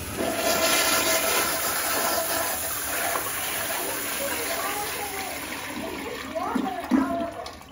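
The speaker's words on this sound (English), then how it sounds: "Give it a flush." A powerful toilet in an older restroom of the Professional Arts Building in Hagerstown, Maryland, flushes with a loud rushing surge of water that gradually eases, while people talk over it.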